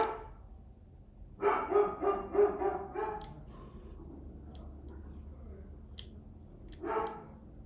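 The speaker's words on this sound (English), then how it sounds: "it's gotta be exhausting being my dogs, barking at every little noise all day long" Several dogs bark in a quick burst of five or six sharp barks, then fall silent, and a single bark follows a few seconds later, all at moderate distance in a quiet room with a few faint clicks.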